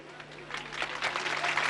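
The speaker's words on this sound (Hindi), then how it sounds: "अब आपने तो ताली बजा दी" An audience at an outdoor political rally in Rajasthan breaks into applause during a speech, the clapping swelling from faint to fuller over a brief stretch with a low steady hum underneath.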